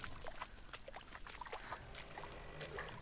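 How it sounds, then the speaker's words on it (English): Faint, scattered water splashes and trickles in the video game Hellblade: Senua's Sacrifice, soft intermittent drips and sloshes over a quiet background. "So I hear, like, splashing."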